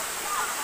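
Waterfall at Engkanto Falls in Libmanan, Camarines Sur, heard as a steady, broadband rush of falling water that stays even and fairly close for the whole brief moment.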